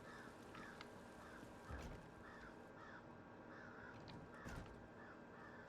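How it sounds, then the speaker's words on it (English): Crows caw outside an open window, several distant, faint calls repeating through a steady room hiss, with no talk. "Stupid crows."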